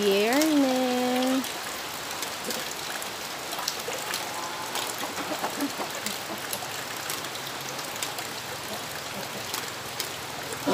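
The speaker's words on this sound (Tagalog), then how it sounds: "Ganito sa bukid kapag umuulan, malamig." Steady rain pours down outdoors on a farm on a cold, overcast day, a dense even hiss of drops with a brief voice at the start, then continuous rainfall throughout.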